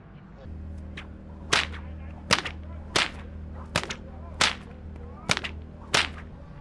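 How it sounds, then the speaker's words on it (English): Whips cracked at an outback ute muster, seven sharp loud snaps spaced about a second apart over a steady low engine-like drone. "Young people out cracking whips."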